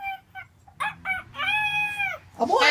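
A voice imitates a rooster, first with a few short clucking notes and then a drawn-out, rising-and-falling cock-a-doodle-doo crow, close and clear.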